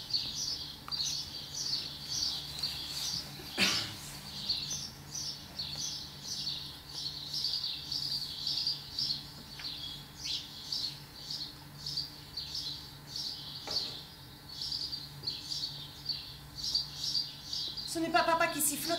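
Small birds sing and chirp in repeated bright, quick phrases throughout, moderately close and steady, with a few sharp knocks and a faint background hum on a children's theatre stage.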